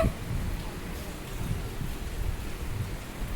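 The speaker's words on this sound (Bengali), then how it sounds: "আকাশ ডাকছে, এবার ধরবে।" Rain falls steadily while a low, rolling rumble of thunder sounds in the distance beneath it.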